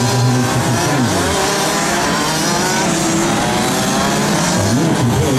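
Racing karts roar past on the Genk circuit, several engines whining and revving together loudly and continuously, pitch rising and falling as they accelerate and brake.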